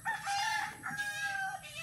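A rooster crows in one drawn-out, strained call that rises and holds, close and fairly clear, with a brief break partway through and no talking over it.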